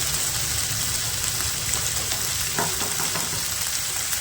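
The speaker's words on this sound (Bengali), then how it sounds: "ভালো করে মশলাটা কষিয়ে নেব" Ground spice masala of turmeric, cumin, coriander and chili powder sizzling steadily in a pan while frying for prawn chops, a continuous close hiss with faint stirring scrapes partway through.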